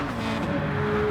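Race car engines, a Subaru WRX and a Porsche, in Gran Turismo Sport, a steady droning engine hum held at a fairly constant pitch and level through a brief stretch, no voices.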